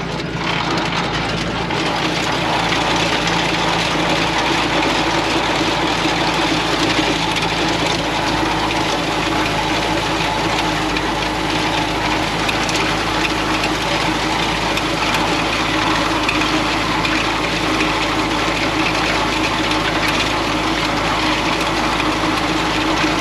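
A farm tractor runs steadily with its PTO shaft engaged at about 540 rpm while tedding hay, a loud, continuous engine drone with a constant hum and no talking.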